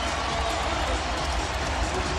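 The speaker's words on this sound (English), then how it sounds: "And the sellout crowd on its feet" Sellout basketball crowd on its feet at the Rose Garden, a dense, continuous roar of cheering spectators filling the arena under steady commentary.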